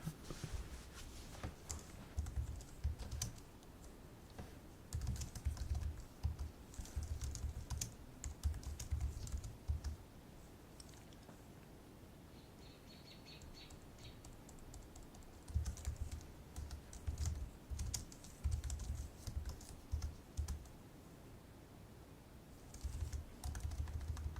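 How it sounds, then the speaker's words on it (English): Clicky keystrokes from a Logitech Bluetooth computer keyboard come in steady bursts with short pauses, close and fairly loud, with no talking over them. "I'm trying to get used to this keyboard that I got"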